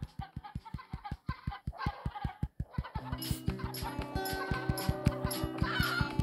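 Cartoonish chickens cluck in rapid, rhythmic bursts in the mobile farming game Egg, Inc; halfway through, a bright looping game music track joins and plays under the steady clucking.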